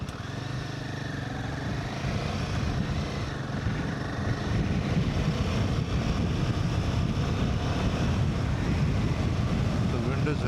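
Strong wind roars and buffets continuously while riding a Royal Enfield Himalayan motorcycle at 40–50 on a long touring day, a dense, loud rushing noise mixed with low engine rumble.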